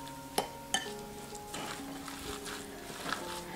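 Meatball mixture seasoned with salt, black pepper and fresh parsley is worked together in a bowl with soft, faint squishing after two sharp clinks, under a low steady hum.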